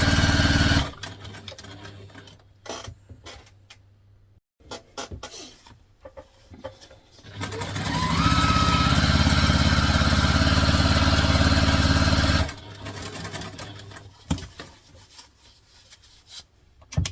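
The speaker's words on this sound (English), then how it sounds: "We're going to sew all the way around." Sewing machine stitching around the edge of a contemporary hobo bag, running in bursts with a long steady whirring run in the middle and brief pauses between, close and loud.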